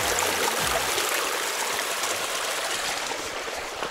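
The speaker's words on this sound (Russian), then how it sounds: "В дорогу набираем родниковой воды." Spring water trickles and splashes steadily, close by and fairly loud, while bottles are filled for a hike up Antonova Rock in Bashkiria. There is no speech, just an unbroken wash of flowing water.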